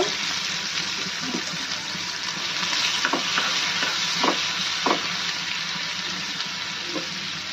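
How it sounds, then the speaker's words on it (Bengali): Dried fish rubbed with turmeric and salt frying in mustard oil, a continuous loud crackling sizzle with a handful of sharp spatula taps scattered through. "প্রথমে আমি শুটকি মাছগুলো হলুদ লবণ দিয়ে মাখিয়ে সরিষার তেল দিয়ে ভেজে নিব"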